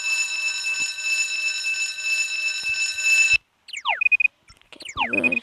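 A video game alarm in Stickman Survival rings as a steady high electronic tone, then cuts out and gives way to short falling and chirping electronic blips.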